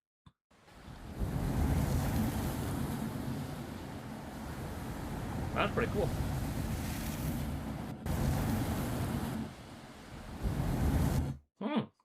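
Steady ocean surf and wave wash from a sprite-based pixel-style surfing video game demo rolls on continuously at moderate level, with a brief spoken remark over it and a short drop near the end.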